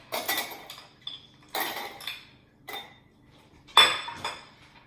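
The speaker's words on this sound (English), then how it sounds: "So we'll start with a good few ice cubes in here." Ice cubes go into a glass for a gin fizz in four separate clattering drops, each a sharp clink followed by a short rattle, close and loud with quiet gaps between them.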